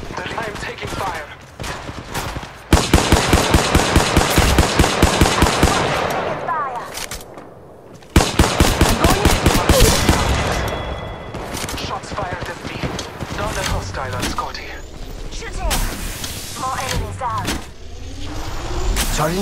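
Gunfire in the battle royale game Apex Legends Mobile, loud rapid automatic bursts in long rattling strings with sharp single shots between them, mixed with game effects and voices.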